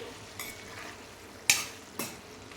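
Cooked tomatoes are stirred in a curry pan: three distinct scraping strokes of a utensil, the middle one sharpest, over a soft, steady background sizzle, close by and with no talking.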